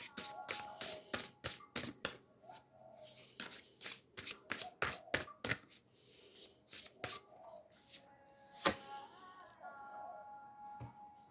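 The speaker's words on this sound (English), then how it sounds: "I want to pull one oracle card" Oracle cards are shuffled by hand in a quiet room, with repeated crisp riffling bursts in quick rhythm and brief pauses in between, close and clear, with no talking.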